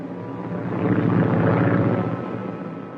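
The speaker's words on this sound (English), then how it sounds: "The plane is coming back." An airplane passing overhead as a radio drama sound effect, a steady droning engine rumble that swells to a peak around the middle and slowly fades, heard alone without talk.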